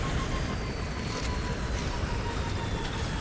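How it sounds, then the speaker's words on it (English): An enemy helicopter in Metal Gear Solid 5: The Phantom Pain gives off a steady, loud rotor-and-engine roar that fills the scene without a break. "Enemy chopper!"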